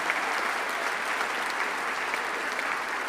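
Steady applause from a crowd at a Te Pūkenga Unitec graduation ceremony, honouring the MC, even and sustained throughout at moderate loudness with no voices over it.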